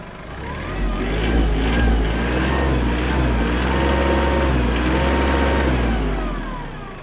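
The diesel engine of a Kubota KL-230 FL mini tractor revs up and holds at high speed, a steady loud rumble that eases back down near the end.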